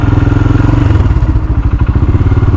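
A Royal Enfield Himalayan fitted with a big bore kit making about 40 hp thumps loudly and close, its single-cylinder engine pulsing in a deep, steady rhythm with slight shifts in pace.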